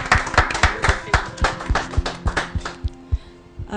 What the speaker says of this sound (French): On peut l'applaudir quand même.